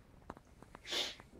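A person sneezes once, a sharp close burst near the end, preceded by a few small snorts and mouth clicks in a quiet room.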